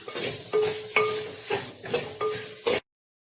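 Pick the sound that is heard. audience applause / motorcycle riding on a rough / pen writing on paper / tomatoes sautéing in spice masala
tomatoes sautéing in spice masala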